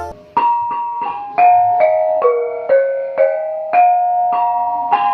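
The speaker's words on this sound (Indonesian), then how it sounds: "Bonang adalah alat musik pukul tradisional dalam gamelan Jawa Timur" A bonang, the bronze gong-chime of East Javanese gamelan, is struck with cloth-wrapped mallets in a steady melodic run of about a dozen clear, ringing metallic notes that overlap as they decay, with no talking.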